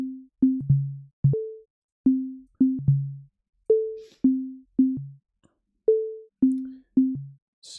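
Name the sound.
synthesizer sine wave tone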